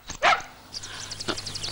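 A dog barks in a Malayalam comedy film scene, one loud close bark near the start and then a second, weaker one, with high yelps and whimpers running through the clip.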